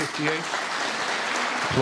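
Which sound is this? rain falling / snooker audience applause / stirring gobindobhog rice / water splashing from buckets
snooker audience applause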